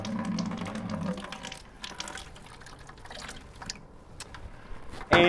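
Water rushes steadily through a coffee brewer's newly installed water filter as it is flushed, a continuous near splashing flow with a voice speaking over it and a sharp clatter at the end.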